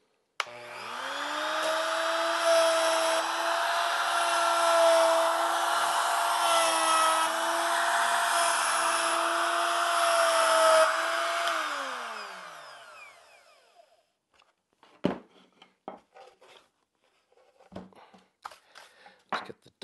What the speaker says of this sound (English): Now I'm going to change bits and do another cut.